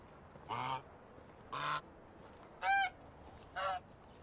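Goose honks from a jumping character wearing a mask in Medieval Dynasty: four short, nasal honks spaced roughly one second apart, each clear and close over a quiet hum, no voices.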